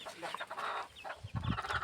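A hen clucks softly in short, quiet bursts near a coop where she sits on eggs, a few faint clucks close by.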